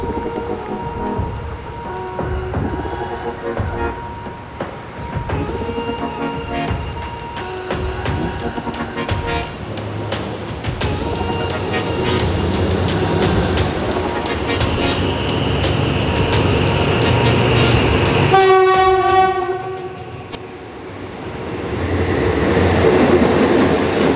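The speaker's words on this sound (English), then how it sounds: "We can hear the sound of the railroad crossing in the distance now" A train rolls past a railroad crossing on active tracks in Bangkok, a loud, sustained rumble and rattle of wheels, with a strong horn blast near the end, then a continuing clatter.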